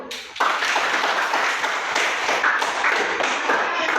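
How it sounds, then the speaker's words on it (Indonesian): A small group of students in a classroom breaks into applause for a discussion group, quick overlapping claps that keep a steady patter for several seconds, close and fairly loud. "tepuk tangan untuk kelompok"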